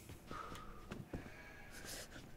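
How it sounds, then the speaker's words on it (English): A few faint, distant sheep bleats over a quiet outdoor ambience in the video game DayZ, short and spaced apart. "Oh, I can hear sheep."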